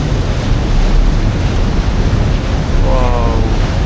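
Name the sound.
water splashing at theme park ride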